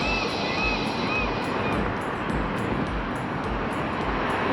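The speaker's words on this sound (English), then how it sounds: "You hear the birds squawking." Seabirds squawk repeatedly along the ocean waterfront in downtown Bellingham, with short harsh calls recurring faintly in the distance beneath heavy, steady wind rumble on the microphone.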